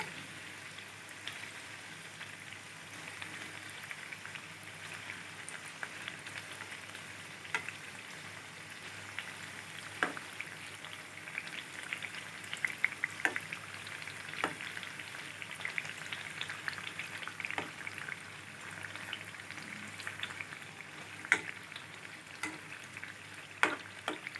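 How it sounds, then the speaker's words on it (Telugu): Wheat flour biscuits deep-frying in hot oil give a soft, steady sizzle and bubbling, with occasional sharp crackles and spatters popping through at a low, close level. "గోల్డెన్ కలర్ వచ్చే వరకు ఫ్రై చేసుకోవాలి"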